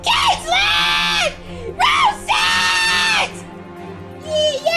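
A girl screams in a high, harmonic voice, in two long sustained bursts with a brief cry between them, loud and close, and a third scream starts at the end.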